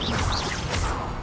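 The Incendio fire spell is cast in the Hogwarts Legacy video game: a dense, loud whooshing rush with crashing, swishing layers that fills the short moment without a break, and no speech over it.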